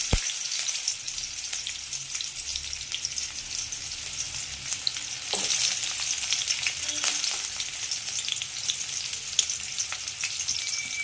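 Chopped onion frying in hot oil with urad dal, giving a steady bright sizzle that runs throughout, with a few sharp pops and occasional stirring clicks, close and alone.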